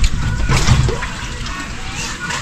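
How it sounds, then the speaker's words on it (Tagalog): Running water splashing and sloshing steadily, with clinks and scrubbing sounds of dishes being washed nearby and a voice speaking briefly. "Hugas daw kami. Hugas lang pinggan."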